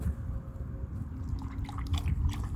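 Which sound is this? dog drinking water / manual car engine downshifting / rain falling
dog drinking water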